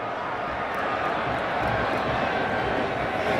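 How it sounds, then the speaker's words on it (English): Football stadium crowd at a 2012 Oklahoma at West Virginia college game, a dense steady roar of thousands of fans buzzing, loud and continuous. "This crowd buzzing"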